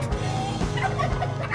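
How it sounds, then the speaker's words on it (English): Chickens roaming a vineyard cluck and murmur softly at a moderate distance, a few short clucking calls over a low steady background. "We have a bunch of chickens running around."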